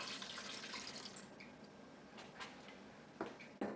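Water running and splashing into a soup pot for Italian wedding soup, with sage already in the pot: a steady close pour with a few louder splashes and knocks near the end.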